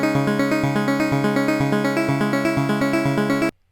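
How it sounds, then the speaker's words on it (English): A plucky synth arpeggio built in Serum from an acid waveform through a filter repeats in a steady, even rhythm of short bright notes, playing alone and stopping abruptly at the end. "I created this ARP here from scratch in Serum"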